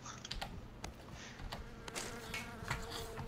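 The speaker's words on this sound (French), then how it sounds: "J'entends des mouches." Flies buzzing in the battle royale game PUBG, a busy layer of small buzzing mixed with sharp clicks and taps, fairly close and continuous for a few seconds.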